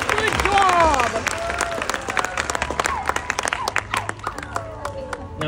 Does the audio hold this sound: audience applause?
yes